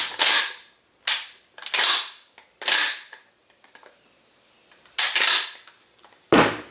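A GForce GF2P 12 gauge pump shotgun firing outdoors, six loud sharp blasts at irregular intervals, each followed by a short fading echo, with faint handling clicks between shots.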